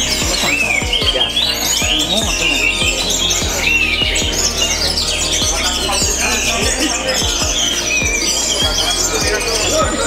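An orange-headed thrush (Anis Merah), a prize-winning competition songbird, sings loudly and continuously up close with rapid varied chirps, whistles and trills, and faint tapping clicks underneath.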